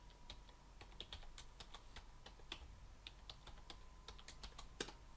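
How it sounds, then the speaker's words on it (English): Password keys tapped on a computer keyboard, a steady run of sharp, close clicks at an uneven pace over a faint hum, with no talking. "Going to type my password."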